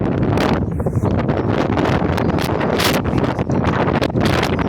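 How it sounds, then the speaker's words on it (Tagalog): Strong wind roars and buffets the microphone continuously, a loud broadband rush with gusty surges and no voices. "Kaya hawak nila yung mga sombrero nila kasi napakalakas ng hangin."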